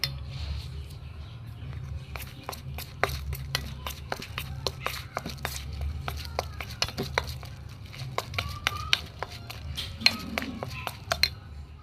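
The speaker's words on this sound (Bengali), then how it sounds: "একটু ভালো করে ফেটিয়ে নেব, বেসন দিয়েছি, ভালো করে ফেটিয়ে নেবো।" A spoon whisks ash gourd paste with gram flour, salt, chili powder, turmeric and cumin-coriander paste in a bowl, producing rapid, irregular clicks and taps against the bowl, close and fairly quiet over faint background noise.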